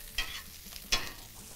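A venison meatloaf mixture seasoned with fresh pepper gets stirred in two quick, close, moist strokes against the bowl, with soft sizzle-like texture between them.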